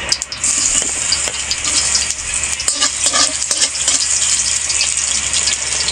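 Garlic sautéing in hot cooking oil in a pan, a close, steady sizzle with occasional stirring scrapes and clicks, with no talking.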